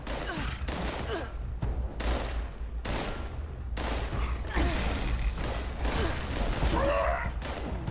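Rapid bursts of gunfire from Fallout 76, several volleys of shots cracking in quick succession over a steady game background, loud and close throughout.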